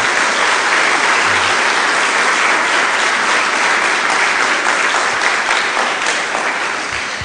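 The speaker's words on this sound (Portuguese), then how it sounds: "Dá uma salva de palmas a Jesus." A church congregation applauding for Jesus, loud and thick with many people clapping together, sustained for several seconds and easing slightly at the end, with no voices.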